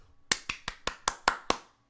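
Seven slow, soft, evenly spaced claps from a single person, a deliberate polite golf clap with no voices.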